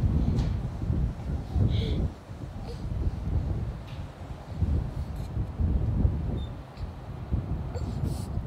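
Breezy outdoor wind buffets the microphone in steady low rumbling gusts throughout, with no talk over it.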